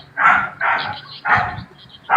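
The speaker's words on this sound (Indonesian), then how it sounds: "suara guguknya siapa ya?" A dog barks four times in loud, close, evenly spaced barks, with no talking over it.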